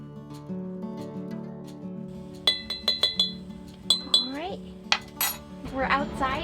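A spoon stirring homemade bubble solution in a glass, ringing clinks against the glass in a quick series, then swirling taps, close and clear with faint talk at the start.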